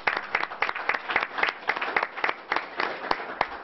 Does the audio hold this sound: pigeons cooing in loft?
no